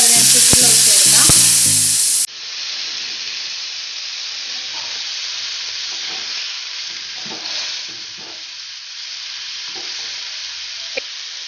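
Chicken frying in a pan for chicken karahi, a loud stirring scrape and sizzle at first, then a steady, softer hiss of frying that continues with occasional crackles.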